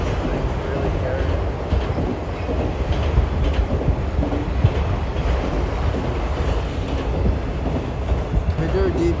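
A Canadian Pacific CPKC auto train rolls past close by, a steady, loud rumble and rattle of rail cars that fills the whole stretch with no pauses.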